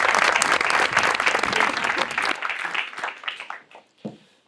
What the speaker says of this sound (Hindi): एक दफा फिर से ढेर सारी तालियां